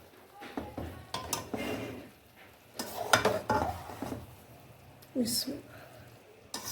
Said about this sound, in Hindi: इन चावलों को सिर्फ आपने मिक्स करना है